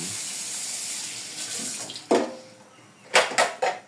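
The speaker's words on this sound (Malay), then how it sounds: "Tekan air lagi sampai semuanya tenggelam." Tap water runs steadily and loudly into a cooking pot holding rice and potatoes for a broccoli masak lemak, then a few sharper splashes and pot knocks close by as the flow changes near the end.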